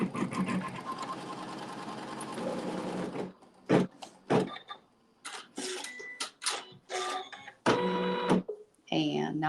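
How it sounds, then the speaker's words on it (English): A sewing machine whirs in a fast, steady burst for about three seconds as it tacks down fabric on a log cabin quilt block, then falls quiet while a person talks. "it's going to stitch a tack down to hold that fabric in place."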